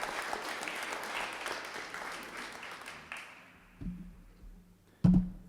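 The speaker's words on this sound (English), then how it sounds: "give a huge shout out and round of applause to the administration" Audience applause at the 47th annual AFRAM festival, dense clapping that fades out after about three seconds, followed by a few louder isolated knocks and a sharp thump near the end.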